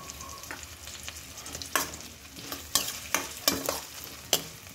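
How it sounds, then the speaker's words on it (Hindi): Chopped onion and finely cut ginger fry in a pan for an Indian cabbage and pea curry, with a steady soft sizzle broken by several sharp scraping stirs of a spoon, close and without talk. "यहाँ प्याज जब थोड़ी भुन जाए तो यहाँ बारीक कटी हुई अदरक डालेंगे।"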